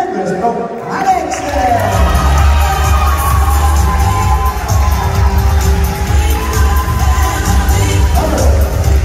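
A crowd at a nighttime resort show in Playa de las Américas, Tenerife, cheers, whoops and shouts loudly and without a break from start to finish, with voices mixed into the noise.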